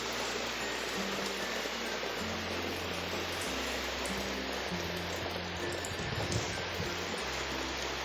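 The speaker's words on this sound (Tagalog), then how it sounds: "Ayan na, ang ulan, ang lakas ng hangin." Rain with strong wind by the sea, a steady, dense hiss of falling rain and rushing air held at even loudness throughout, with a low tonal hum shifting in the background.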